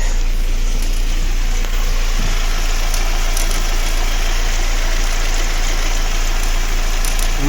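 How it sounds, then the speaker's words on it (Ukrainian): Opel Vectra C 2.2 engine at about 212,000 km idling steadily up close, a constant loud drone with a faint metallic chatter from worn timing chains running through it. "Як наші цепочки шурудять."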